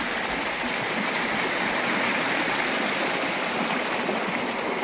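A countryside river runs in a continuous broadband rush of flowing water, close and steady, with no talk over it.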